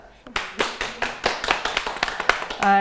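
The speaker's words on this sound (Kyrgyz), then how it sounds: "Кош келиңиздер, кол чабуулар" On a stage show, the audience welcomes two dance contestants with rhythmic, evenly spaced clapping that starts after a brief pause and is followed by a voice at the very end.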